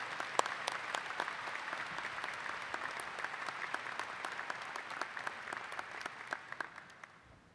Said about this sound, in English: Let's give one more round of applause for our outstanding women and outstanding men, Luke and Tyler.